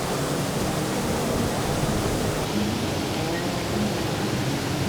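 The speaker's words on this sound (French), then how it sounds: "bercées par le bruit de l'eau dans les déversoirs" Water pours over the weirs at a lock on the Nantes–Brest canal, a dense steady rushing roar with no let-up, close and loud, with no voices.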